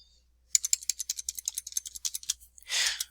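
Fingers tap a computer keyboard in a quick uneven run of light clicks, close and fairly quiet, ending with a brief soft rustle.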